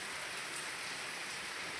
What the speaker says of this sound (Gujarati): વરસાદ તો બે દિવસથી આવે છે જોરદાર વરસાદ પડે છે